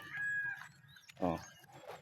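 A chicken clucks and calls briefly amid a faint low background hum, with a short louder burst in the middle.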